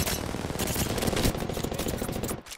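Apex Legends automatic weapon fire, a rapid close burst of gunshots running continuously for about two and a half seconds before cutting off abruptly.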